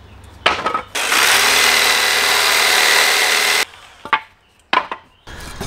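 A power saw cuts through the nails holding wooden pallet boards together, a loud continuous whining buzz of about three seconds, framed by short knocks and clattering handling noises of the wood.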